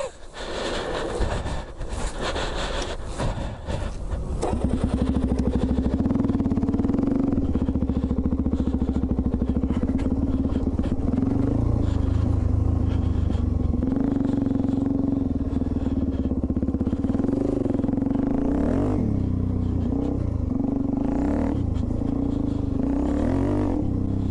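A Suzuki DR-Z400E dual sport motorcycle engine runs steadily at close range, its loud idle shifting through a few revs after a rough, clattering start, with no talk over it.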